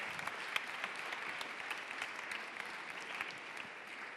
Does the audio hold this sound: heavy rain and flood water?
no